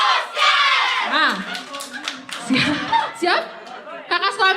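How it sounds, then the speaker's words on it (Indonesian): Children clap their hands at a Sunday school Christmas service in a church, a busy spatter of claps mixed with lively voices and chatter throughout. "Tepuk tangan Yesus."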